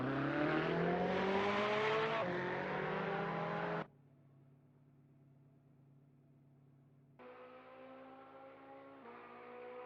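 GT3 race car engines at Spa in Assetto Corsa, with a Ferrari 488 GT3 and a Lamborghini Huracan GT3: a loud revving engine cuts out to a quiet hum, then a second engine returns at moderate level.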